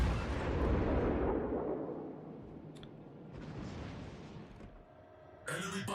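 Artillery fire support striking a target in a naval battle video game, a deep booming roll that fades slowly, followed by faint mechanical clicks and a sharper burst at the end.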